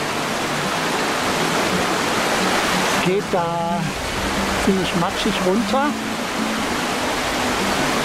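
Mountain stream in the Lechtal Alps, a loud continuous rushing wash of water that stays close and steady throughout, with a person speaking over it for a few seconds in the middle.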